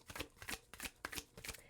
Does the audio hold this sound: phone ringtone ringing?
no